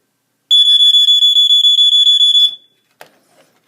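Earli-Gard EGD-5S smoke alarm shrieking during a test with a shrill, fast-pulsing piercing tone for about two seconds before cutting off, followed by faint handling clicks.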